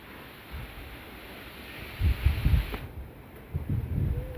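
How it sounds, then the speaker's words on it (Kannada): Wind gusts blowing outdoors across open countryside near a cattle yard, a steady low rumble of moderate loudness that swells in bursts, alone with no talk. "ಎಷ್ಟು ಗಾಳಿ ಬೀಸ್ತೈತೆ."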